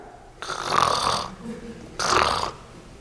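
A man imitates drowsy breathing with two loud, raspy snore-like breaths, each lasting close to a second and separated by a short pause, close and prominent.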